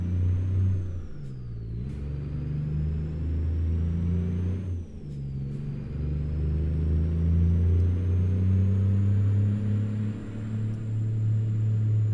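Truck engine from American Truck Simulator, played on a full-motion rig: a steady low diesel rumble that rises and falls through gear changes, moderately loud and continuous, with a faint high whine over it.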